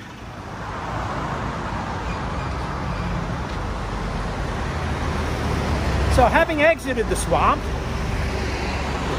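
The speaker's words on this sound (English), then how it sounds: "I come out on Sukhumvit Road, which is this noisy giant thoroughfare here next to me." Heavy traffic on Sukhumvit Road in Bangkok, a noisy giant thoroughfare, gives a steady, close roar of cars and motorbikes under someone talking throughout.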